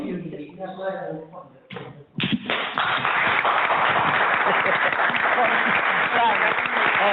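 Speech at first, then a burst of applause from a crowd that swells and holds steady, dense and loud until the end.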